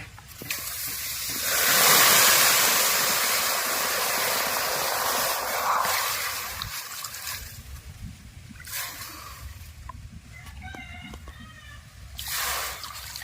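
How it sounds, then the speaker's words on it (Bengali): Water poured into a pot for making sugar syrup, a rushing, splashing pour that swells and fades, followed by lighter sloshing and clinks. "এই বাটির তিন বাটি জল দেবো"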